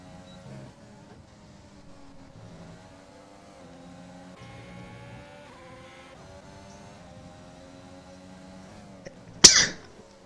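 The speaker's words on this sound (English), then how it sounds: "I had to have a little sneeze" A single sudden sneeze bursts out near the end, loud and close, after a long stretch of faint engine hum from an F1 2020 racing game at the British GP.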